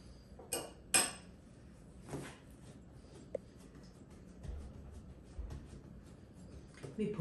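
Grated cheese being mixed with egg white in a bowl for Adjarian khachapuri, heard as a few close clinks and scrapes of utensil against the dish spread over quiet stretches, with soft rustling stirring between them.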